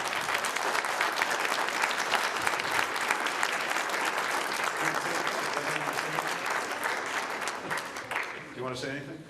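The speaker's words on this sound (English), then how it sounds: "So if we can give them all a round of applause." A room of people at a council meeting claps in sustained applause for several seconds, loud and dense, tapering off at the end as a voice starts speaking.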